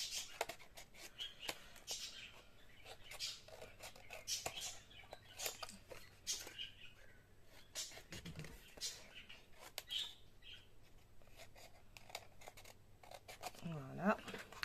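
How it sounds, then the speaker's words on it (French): Small scissors snip paper for a handmade mini album, with many quick, crisp cuts at close range while someone talks intermittently. "Petite paire de ciseaux. Ou grande, peu importe, il m'en faut une."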